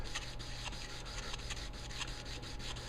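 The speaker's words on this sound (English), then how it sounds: "This one's just kind of setting the bevel and starting the sharpening process." A 4-inch jointer blade is rubbed offhand across a sharpening stone in steady repeated back-and-forth strokes, a close gritty scraping rhythm with no talk.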